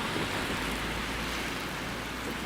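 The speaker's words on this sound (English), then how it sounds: "All right, the rain's picking up." Rain falls on an umbrella in downtown Toronto as a dense, steady hiss of drops without breaks, with faint city traffic rumble underneath and no talk.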